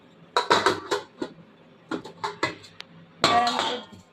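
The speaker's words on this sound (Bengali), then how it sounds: "ঢাকনাটা খুলে নিলাম" Metal pot lid lifted off a pot of rested, kneaded flour dough for butter naan, giving several close clinks and scrapes of metal in quick bursts, with no talking.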